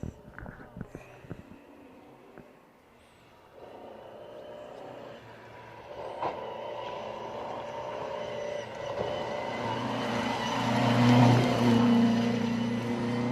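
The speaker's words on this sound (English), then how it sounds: "No, we do have another car coming." A Talbot Sunbeam rally car approaching along a special stage, its engine rising from a faint distant drone to a louder, nearer rasp with gear changes.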